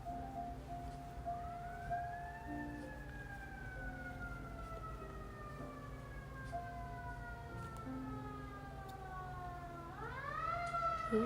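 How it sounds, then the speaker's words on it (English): A siren passes outside, its rising and falling wail heard at moderate distance through the walls of a quiet indoor studio, swelling again toward the end. "I'm sorry about the siren."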